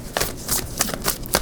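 Tarot cards being shuffled in short bursts, a few soft riffling swishes separated by brief pauses, close and fairly quiet with no talking.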